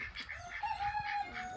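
Backyard chickens clucking and calling close by, with a sustained, drawn-out call in the middle followed by shorter clucks, with no talking over them.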